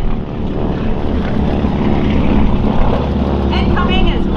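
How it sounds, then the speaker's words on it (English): A Japanese Zero warplane replica flies at an airshow with a loud, steady propeller engine drone throughout. A commentator talks over it through a public address system. "Followed by second generation pilot Patrick Hutchins in Zero 111."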